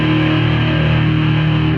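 Electric guitar through a fuzz pedal into a Fender amp, a loud, thick, heavily distorted sustained chord with heavy low end, steady and alone.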